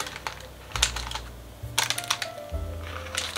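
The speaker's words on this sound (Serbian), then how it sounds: "Ivice možete ovako makazama da zasečete" A few sharp, crisp scissor snips spaced irregularly, cutting through soft food, over a low steady hum.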